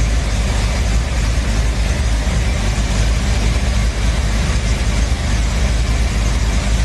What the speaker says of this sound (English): Now it'll idle for a little while, and it gets smoother as the engine temperature increases.